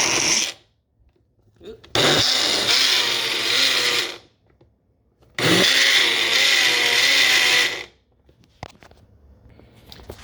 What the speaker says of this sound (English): I'm just gonna add a scoop of cocoa powder and blend this up